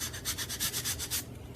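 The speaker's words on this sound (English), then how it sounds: "a sanding pad, or you can take your nail and scrape around your bottles" Rapid back-and-forth rasping strokes, about eight in a quick rhythm, as a sanding pad scrapes around a glass bottle up close, then a quieter stroke.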